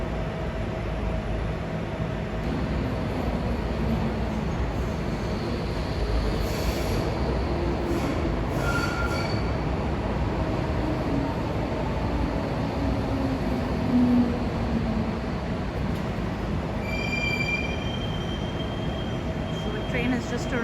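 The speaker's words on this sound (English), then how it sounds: "The train has just arrived at the station." A DLR train arrives at Stratford International station in London with a steady rumble and high metallic wheel squeals, a constant loud mechanical din from start to finish.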